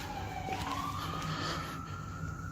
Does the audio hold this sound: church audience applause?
no